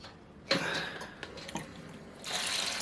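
Water pumped by an upgraded 25 watt pump in a Brewzilla 65L Gen 4 brewing system starts with a sudden splash and keeps up a steady gush. It grows louder again near the end, with faint drips in between.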